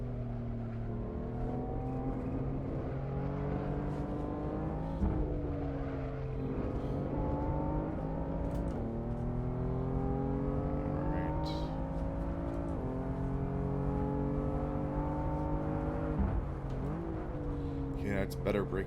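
BMW M4 race car engine in Assetto Corsa at the Nurburgring, repeatedly revving up through the gears and dropping on braking, a steady whining drone at moderate level with talk over it.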